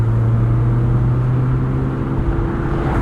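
Engine drone of a 2009 NC2 Mazda MX-5 Miata with a 5-speed manual, heard loud and close from inside the cabin as a steady low hum whose pitch eases slightly as the revs fall.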